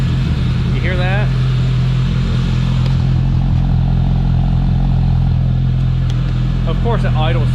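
A car engine with a misfire idles close by in a steady low rumble, with faint irregular clattering and a few brief squeaky sounds mixed in, no clear talking over it.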